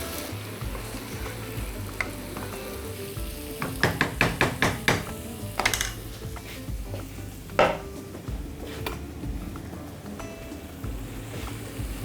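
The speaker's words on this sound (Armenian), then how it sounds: "Մինչ այդ խառնենք, թող հնդկաձավարը իր մեջ առնի բանջարեղենից առաջացած սոուսը" Buckwheat and vegetables are stirred in a pan: a cluster of quick scraping, clattering strokes in the middle over a steady low sizzle, with no talking.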